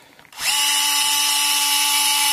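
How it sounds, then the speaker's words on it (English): A power drill bores tuner holes through the wooden headstock of a Sunn Mustang guitar neck, spinning up sharply and then holding a loud, steady, high whine with no voices. "the way you drill, to make sure that you don't get some splitting as the drill comes through the wood"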